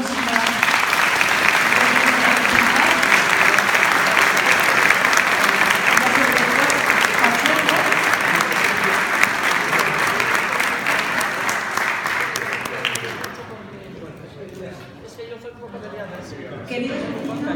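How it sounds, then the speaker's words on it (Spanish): Sustained, dense applause from a crowd for a children's choir of a municipal music school at an official event, loud and steady for about thirteen seconds, then fading into quieter room noise. "un aplauso para los niños de la Escuela Municipal de Música"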